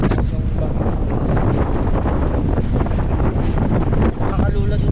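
Strong, steady wind buffets the microphone at the Bangui Windmills wind farm, a loud continuous roar with gusty rumbling throughout and no pauses.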